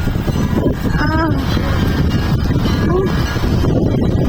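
Strong wind buffets the microphone outdoors in a loud, constant roar with gusty surges, while voices speak faintly underneath.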